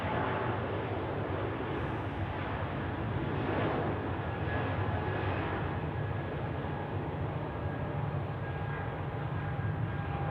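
A jet airliner on its takeoff roll at Zurich Airport gives a steady, broad roar that holds evenly throughout, distant but sustained, with no voices.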